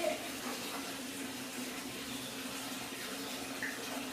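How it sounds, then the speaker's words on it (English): Water runs steadily from a tap into a filling bathtub, a constant soft hiss and splash, close but quiet, with no speech. "Just running the bath right now."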